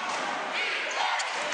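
A college basketball crowd roars in an arena during an NCAA game between Mercer and Western Carolina, a dense, loud, continuous wash of cheering with no breaks.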